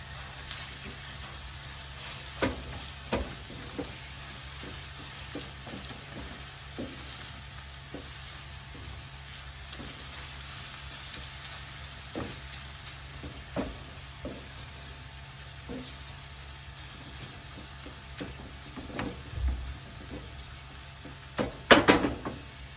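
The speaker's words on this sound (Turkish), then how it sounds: "Soğanım kavursun biraz." Onions sautéing in a pan with gentle, steady sizzling throughout, broken by scattered soft clicks and stirring knocks and a louder clatter near the end.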